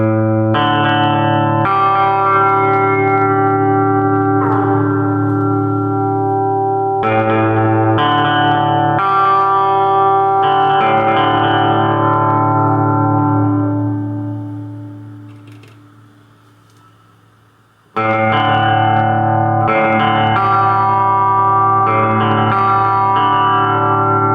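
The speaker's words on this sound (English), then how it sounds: "Actually, there is 3 settings to the delay and reverb." Electric guitar played through a Fender Champion 20 practice amp with delay and reverb on, sustained chords and notes ringing with echo trails, one chord fading out before playing resumes, no talking.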